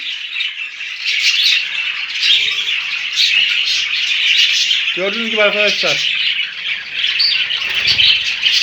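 Female budgerigars chatter and chirp continuously in a new home aviary, a dense high warbling din, with someone speaking briefly over them.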